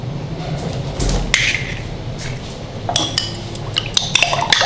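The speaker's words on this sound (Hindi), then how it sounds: "अंडा भी मैंने फेंट लिया" An egg being beaten in a bowl for a potato beef kabab, with light clinks and scrapes of a utensil against the bowl in quick irregular strokes.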